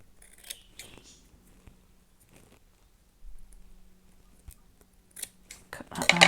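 Scissors cut around a paper library card pocket in short, sparse snips, soft and close against near silence, with a louder flurry of cutting at the end.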